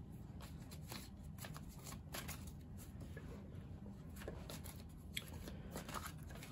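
Tarot cards are shuffled quietly and steadily for several seconds, a soft continuous riffling and sliding with a few sharper flicks as cards are handled, close and faint.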